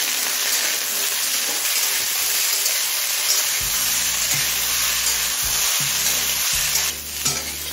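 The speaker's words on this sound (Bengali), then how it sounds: "এবার একে একে সবজিগুলো ভেজে নেব। প্রথমে আমি আলু, মূলো আর গাজরটা দিয়ে দেব।" Potato, radish and carrot pieces frying in hot oil with nigella seeds, giving a loud, steady, close sizzle throughout with low stirring knocks in the pan and no talking.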